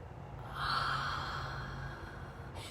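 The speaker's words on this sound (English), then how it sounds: "I'm going to force myself to yawn" A person forcing a yawn, one long drawn-out breathy exhale that swells and then fades, close and alone with no talk.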